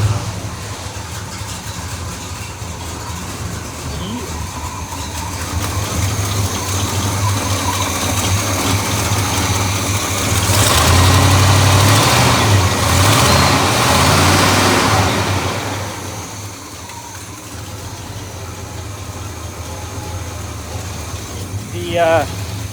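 Chevy square body truck engine idling with an exhaust leak, a steady, loud, close rumble that swells midway and then settles, with someone talking over it at times.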